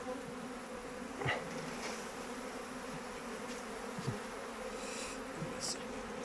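Steady insect buzzing hums close by throughout, a dense drone of honey bees in a village with a few brief louder passes near the microphone.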